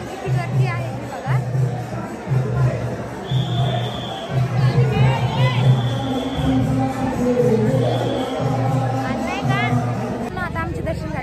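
A large crowd of devotees fills the Swami Samarth temple at Akkalkot with a dense, close hubbub of overlapping voices, a steady murmur and chatter with occasional louder calls.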